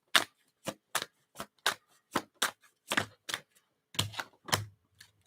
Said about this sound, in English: Let's shuffle and see what happens.